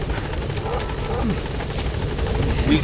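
Helicopter in Metal Gear Solid V, a loud continuous rotor chop with a whining engine that builds slightly toward the end, alone and close.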